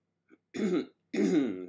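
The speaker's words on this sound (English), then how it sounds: "got that cough still" Two close, harsh coughs come one after another, rough and throaty, separated by a brief pause in otherwise quiet surroundings.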